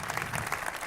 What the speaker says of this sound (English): Warm round of applause, Kathy